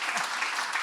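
A brief burst of clapping from an audience at a launch event for an affordable housing partnership, moderately loud and continuous for under a second.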